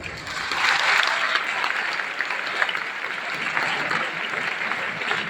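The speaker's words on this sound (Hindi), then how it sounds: "और एक बार अपने जीवन के इस अच्छे प्रोग्राम के लिए आप अपने लिए भी तालियां बजा सकते हैं।" Audience clapping for themselves at a celebration programme, a broad wash of many hands that swells early, then holds steady and fairly loud throughout with no talking over it.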